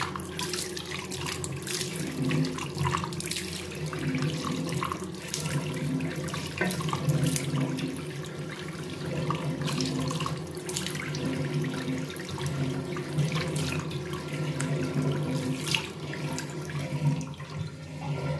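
Tap water runs steadily into a sink during face washing in a skin care routine, a continuous close splashing stream that stays even throughout with no talking.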